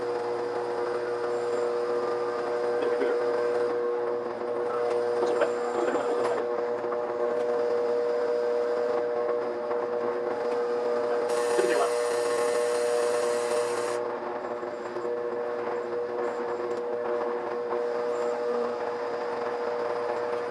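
A hole saw drills into alder wood, giving a steady, close grinding hum with rasping friction that carries on without pause, and no voices are heard.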